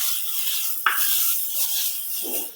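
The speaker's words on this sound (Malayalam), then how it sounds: "ഇളക്കി കൊടുക്കാം." Taro shoots and turmeric are stirred in a frying pan, giving a steady bright sizzle with a sharp utensil scrape near the start and a soft scraping stir toward the end, close and without voices.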